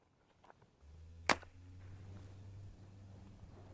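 A single suppressed shot from a Glock 19 pistol with a suppressor, a sharp crack that decays fast, followed by a low steady hum in the background.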